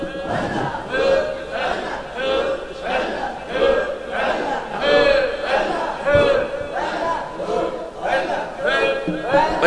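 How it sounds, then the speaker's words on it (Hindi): A crowd at a religious sermon chants slogans in rhythmic call-and-response bursts, loud repeated shouts answering a leader's calls over an amplified hall. "नारा लगाइएगा, नाराए तकबीर, नाराए रिसालत, नाराए हैदरी"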